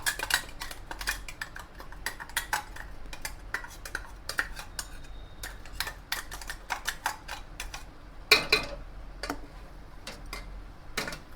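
A spoon scraping and clinking against a cooking pot while ground masala is stirred into mutton curry, with rapid irregular metallic taps and clatters at close range, no talking.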